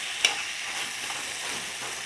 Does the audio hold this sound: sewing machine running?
no